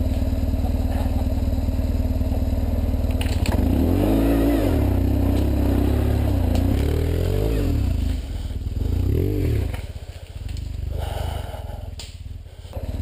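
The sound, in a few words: BMW GS motorcycle spinning its wheel off-road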